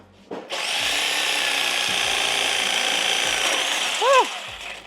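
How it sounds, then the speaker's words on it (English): Reciprocating saw cutting through a stuck part on a 350Z Formula Drift car during a Wisefab install, one continuous loud high-pitched buzzing cut of about four seconds that winds down at the end, close up. "So we just have to get in there with the sawzall at an angle and cut through that"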